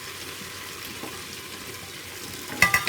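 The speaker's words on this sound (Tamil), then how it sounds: "நல்லா ஃப்ரை ஆகும்." Tomatoes and onions fry in a pan for fish biryani, a steady close sizzle running throughout with a brief burst of stirring or clatter near the end.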